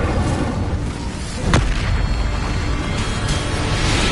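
A magical Incendio fire spell cast in a Hogwarts video game, a single sharp whooshing burst that flares briefly over a steady, dense background roar.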